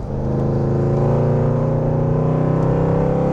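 A Mercedes-Benz CLS 55 AMG in Sport mode drives out of a turn, its engine holding a loud, steady, deep drone that builds slightly throughout, close by and alone.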